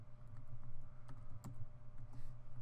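Keys clatter on a computer keyboard as an email and password are typed in, producing a quick, faint run of soft clicks over a low steady hum.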